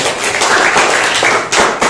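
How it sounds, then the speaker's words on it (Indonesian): A classroom of students claps for a group, a dense burst of many hands close by, loud and continuous for a couple of seconds. "tepuk tangan dulu untuk kelompok 1"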